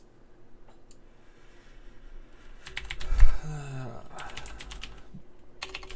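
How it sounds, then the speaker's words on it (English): Typing on a cheap, worn computer keyboard gives bursts of rapid clattering keystrokes, close and loud, with a faint voice talking in the background. "Ignore my awful keyboard."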